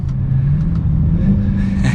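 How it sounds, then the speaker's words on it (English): A 2022 Dodge Challenger SRT Super Stock revving hard, its supercharger whine riding over a loud, close, steady engine drone that swells near the end. "You can hear that supercharger whine."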